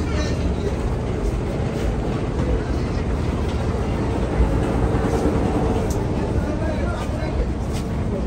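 Busy river passenger ferry terminal at Borhanuddin launch ghat, Bhola: a steady low rumble of launch engines and wind, with people talking in the background throughout.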